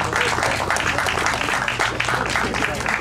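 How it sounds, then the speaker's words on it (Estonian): Applause from the crowd at a lawn tractor racing award ceremony, a steady wash of clapping close by with speech mixed in. "Aplaus!"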